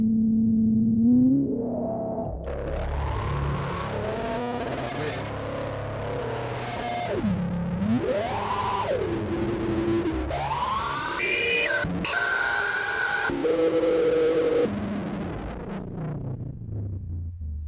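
A distorted DSI Prophet Rev2 synthesizer wails and warbles, its pitch sweeping up and down through gritty, buzzing tones that cut in and out abruptly.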